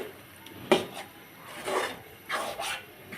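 Cauliflower stem mash being stirred and dried in a pan over low-medium heat, with a few scraping strokes of a spoon against the pan, separated by quieter gaps and close to the listener.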